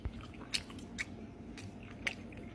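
Someone eating spicy Boston Market rotisserie chicken, with quiet close-up chewing and a few sharp, wet bites spaced about half a second to a second apart, no talking.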